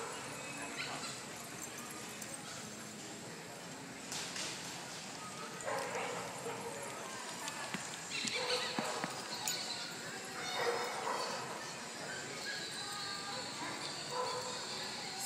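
Big and small dogs yip, bark and whimper at a distance amid outdoor bustle at a dog party, with people talking faintly in the background.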